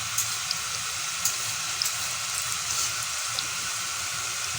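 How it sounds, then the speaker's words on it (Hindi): Morning rain falls steadily as a soft, even hiss, with scattered light drips and taps on a surface close by. "सुबह की बारिश हो रही है।"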